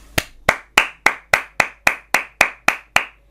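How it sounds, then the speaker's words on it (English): A single person clapping steadily in the middle of a Pokémon Brilliant Diamond/Shining Pearl online battle, about ten sharp, close, evenly spaced claps with no talk over them. "All I can do is applaud."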